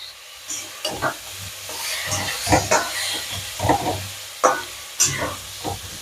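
Prawns sizzle in a hot pan with fried taro stolons while a utensil scrapes and clinks in an irregular stirring rhythm, close up.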